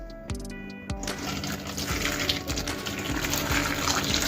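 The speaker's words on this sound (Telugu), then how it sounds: "వేడి నీళ్ళు వేసుకోవాలండి." Hot water is poured over cut cauliflower pieces in a bowl, starting with a few clinks and then settling into a steady, close gushing stream that runs on without a break.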